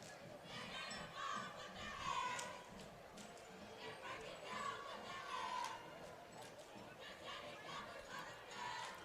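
Crowd at a Boardman vs. Chaney high school football game, stirred up by Chaney Cowboy cheerleaders, makes a steady roar of cheering and chatter across the whole stretch, with a few louder swells of shouting.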